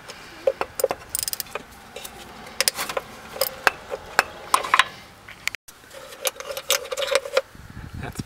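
Small metallic clinks and ratcheting taps come from removing 8mm bolts on the lower timing belt cover of a Ford Taurus SHO. The sounds are irregular and close, with brief pauses between bursts.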